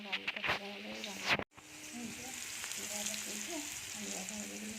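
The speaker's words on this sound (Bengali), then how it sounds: "আর এই যে আলুটা ভাজবো, ঠিক আছে? আলুটা ভাজবো," Potatoes fry in hot oil with a steady, hissing sizzle that carries through, and a voice talks over the first moments of the frying.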